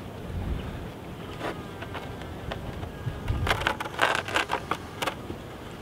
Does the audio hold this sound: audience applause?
no